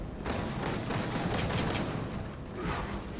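Rapid pistol gunfire in the Gears of War 4 video game, dense overlapping shots forming a loud, continuous crackling barrage with no voices.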